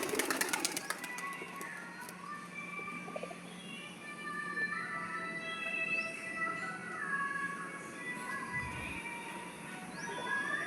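Pigeons coo softly and repeatedly on a rooftop, heard faintly over a low ambient hum with some chirps from other birds.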